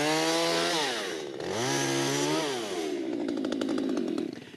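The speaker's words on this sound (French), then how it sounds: "Encore un petit coup de tronçonneuse." A chainsaw trims the base of a Christmas tree trunk, its engine revving up and down loudly and close by, then biting into the wood with a rough, sputtering cutting sound.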